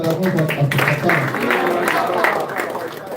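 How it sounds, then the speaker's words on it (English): Applause from an audience at a distributor training event, steady crowd clapping that fills the whole stretch, with a voice speaking over it. "A wonderful applause to our founder, Mr. Davon Afghanistan."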